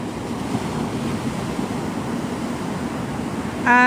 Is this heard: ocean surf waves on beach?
yes